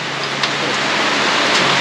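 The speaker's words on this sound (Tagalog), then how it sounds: "Ayaw tumigil ang ulan." Steady rain falls on a surface nearby, a constant hiss with a few louder drops now and then, no talking.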